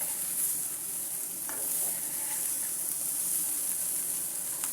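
A spoon stirs coriander powder through a bitter gourd and prawn fry in a pan, giving steady close sizzling with light scraping strokes throughout.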